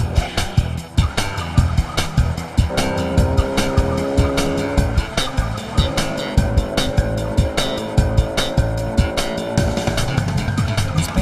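A scooter chase in a kids' cartoon, with a busy, loud engine and racing sounds over music-like tones and repeated sharp hits, continuous throughout.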